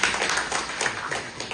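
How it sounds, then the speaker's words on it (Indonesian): Audience applause at a Minang diaspora community gathering in a surau in Sydney, a dense patter of hand claps sustained evenly throughout at moderate volume. "Tepuk tangan untuk IKN dulu"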